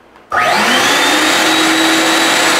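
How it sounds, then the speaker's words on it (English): Spindle of a FoxAlien CL-4x4 CNC machine switches on after a brief quiet, leaping straight to a loud, steady high whine with a rising tone that settles and holds close by, with no talk. "the spindle turns on"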